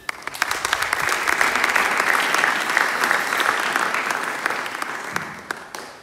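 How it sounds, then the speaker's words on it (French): A church congregation bursts into sustained applause during a Sunday worship service, dense clapping swelling to a steady roar and then thinning out near the end, with faint voices mixed in. "nous devons acclamer pour la gloire de Dieu"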